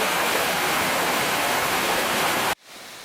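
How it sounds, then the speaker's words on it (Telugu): A South Goa waterfall pours down from above in a dense, loud, continuous roar that cuts off abruptly near the end, leaving only faint background hiss. "పైనుంచి ఆ వాటర్ ఫాల్ అలా కింద పడుతుంటే"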